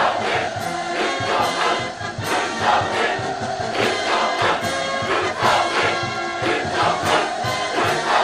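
A large crowd in a public square roars cheers and hurrahs at a Korean Workers' Party anniversary celebration, a loud, sustained massed shouting with rising surges throughout.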